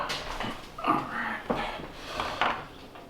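A dog indoors makes a few short whimpers and snorts, mixed with light knocks, over a brief few seconds.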